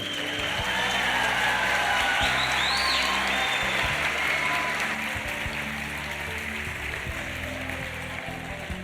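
A school auditorium audience at a Father's Day program in Brasília claps steadily in a sustained round of applause, full and even at first, then thinning slightly toward the end.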